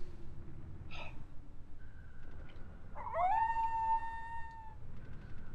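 A dog howls in Final Fantasy VIII on the PS1, a single rising, wavering cry of about two seconds set against quiet game background noise.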